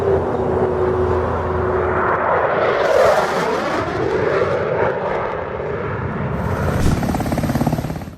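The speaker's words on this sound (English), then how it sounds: "The plane crashes into the water, and as it is falling, the pilot ejects successfully." A plane's engine roars loudly and steadily, with a shifting drone as the aircraft passes, near and dominant with no talk.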